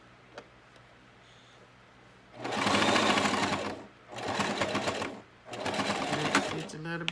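A sewing machine stitches a garment in three separate bursts of fast, close mechanical chatter, with short pauses between them and a quiet lead-in before the first run.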